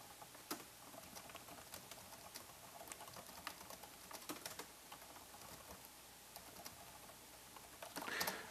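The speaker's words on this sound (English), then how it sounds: "I'm going to type in some text here." Quiet, steady typing on a computer keyboard, rapid light key clicks in uneven bursts with a few slightly louder taps, close and alone without speech.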